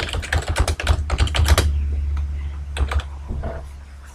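Fast, close typing on a computer keyboard while entering text into a Microsoft Visio 2010 diagram: a quick run of crisp key clicks, a pause, then a few more taps over a steady low hum.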